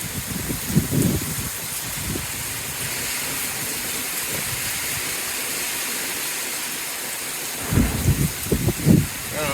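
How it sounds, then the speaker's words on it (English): Steady heavy rain hisses on a tent throughout while low rumbles of thunder roll in near the start and again more strongly toward the end, amid strong wind gusts. "Oh, there's a good storm."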